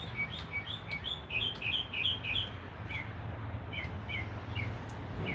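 Songbirds chirp in short, repeated bright calls throughout, set against a steady low rumble of background noise outdoors.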